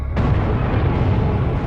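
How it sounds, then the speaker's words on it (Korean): An explosion at a fire scene in a Korean TV drama erupts as a sudden loud blast, then gives way to a sustained heavy roar of flames and rumble that stays dense and close. "추가 폭발과 함께"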